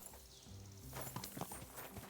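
A horse in Kingdom Come: Deliverance II clip-clops with a few quiet hoofbeats that start about halfway through and stay soft and close-sounding.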